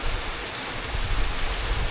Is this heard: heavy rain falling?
yes